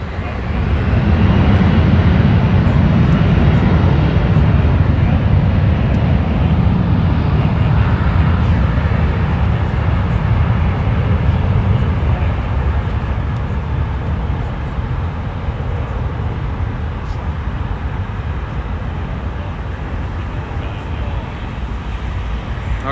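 Jet engine roar from an Embraer 175 regional jet at Los Angeles International Airport, loud and broad at first, then easing off slightly as it continues steadily to the end with no talk.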